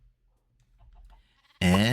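In the Minecraft StoneBlock modpack, a chicken gives a single loud, close cluck right at the end, after a quiet stretch with faint low rumbles.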